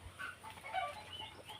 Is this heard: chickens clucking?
yes